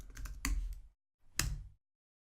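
Fingers type on a computer keyboard in two short bursts of close, crisp clicks separated by a brief silence.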